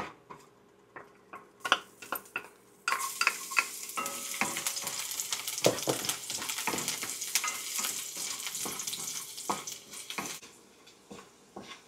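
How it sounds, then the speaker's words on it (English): Garlic sautéing in a pan, opening with scattered spoon clicks and taps, then breaking into a loud crackling sizzle with steady stirring that fades toward the end. "saute the garlic."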